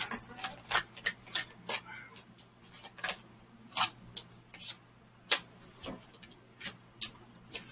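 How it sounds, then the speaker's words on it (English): Spirit message cards are pulled and shuffled from a deck in a series of soft, quick paper flicks and taps, close and quiet, irregularly spaced over a faint background. "I'm going to pull a couple of the spirit message cards for you."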